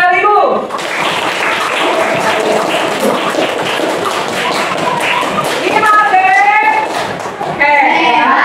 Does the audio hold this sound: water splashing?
no